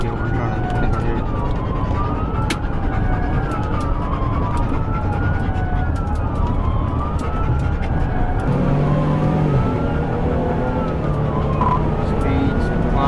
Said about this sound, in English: This dashcam footage shows Hopkins leading the police on a chase at well over 100 miles per hour